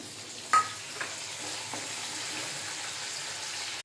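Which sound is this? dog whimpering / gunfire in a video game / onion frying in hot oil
onion frying in hot oil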